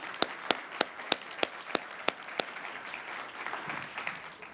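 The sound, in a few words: audience applause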